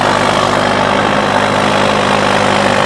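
A John Deere 5405 4x4 tractor engine idles steadily and loudly at close range, a continuous low rumble with no talk.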